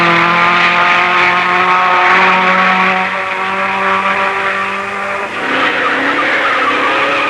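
1960s racing cars corner through a tight hairpin, engines droning loudly with steady harmonic whine that shifts pitch as they brake and accelerate, a dense continuous roar with no talk.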